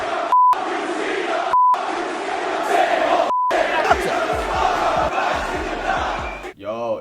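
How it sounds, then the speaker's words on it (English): A hostile New York wrestling crowd boos John Cena. The roar is loud and sustained, filling the arena, and short electronic beeps cut through it at intervals. "the hostile New York crowd instantly booed him"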